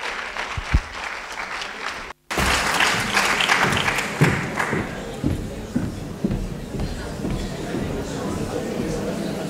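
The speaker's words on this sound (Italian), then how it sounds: "fate un applauso agli attori" Applause for the actors at a theatre performance follows a brief silent gap and continues as a dense wash of clapping with voices mixed in underneath. Shuffling and the noise of a moving crowd fill the background.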